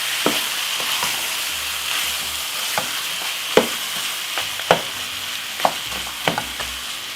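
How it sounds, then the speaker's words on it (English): Jamaican curry goat is stirred in a pot over a steady sizzle, with sharp spoon knocks and scrapes landing at irregular intervals. "Give it a stir."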